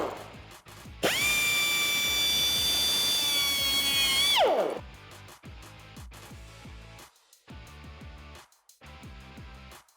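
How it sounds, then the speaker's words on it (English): A cutoff wheel slices through the metal band holding the bottom heat shield on a 2018-2020 Mustang GT exhaust, a loud, steady high-pitched whine lasting about three seconds before winding down into quieter ratcheting tool clicks. "we have a cutoff wheel here and we're gonna start by cutting off the band that holds on this heat shield on the bottom"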